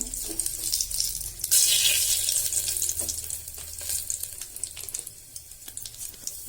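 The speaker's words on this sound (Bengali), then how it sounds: "এবার শুকনো লঙ্কা ফোড়ন দিলাম, তেজপাতা ফোড়ন দিলাম" Dried red chillies and bay leaves dropped into hot oil for a chicken curry, crackling and sizzling loudly and steadily, with scattered sharp pops throughout.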